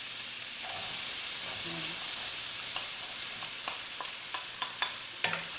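Onion sizzling and frying in hot margarine in a pan for Filipino pork caldereta, a steady close crackle with a few sharp pops and stirring clinks, while a person talks briefly over it.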